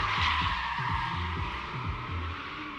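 A drift car at the Big Indian Drift Pit lopes along at low RPM, its engine burbling in slow, rhythmic pulses under a steady hiss of sliding tires at a moderate distance.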